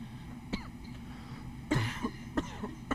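Game character in This Is the Police 2 coughing, a few short harsh bursts and one louder throat-clearing spasm spread over a few seconds, heard up close over a low background hum.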